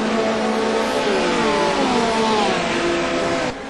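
Several race cars in a GRC Trophy race run close together, fighting for position, with a loud, continuous, layered engine roar whose pitch shifts throughout and drops slightly at the very end.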